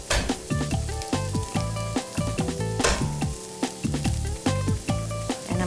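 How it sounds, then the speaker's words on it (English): Shallots sweat in olive oil in a pan with a steady, close sizzle, cut by repeated metallic scrapes and stirring clinks against the cookware. "add a little bit of olive oil, just like that. We're gonna add the shallots. Just wanna sweat them a little bit."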